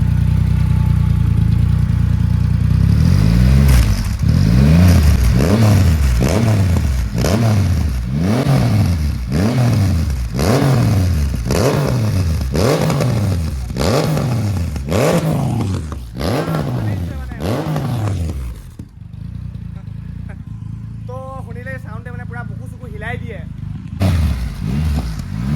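A superbike engine runs loud and close in a long series of rhythmic revs that rise and fall, then settles to a lower, steadier idle near the end.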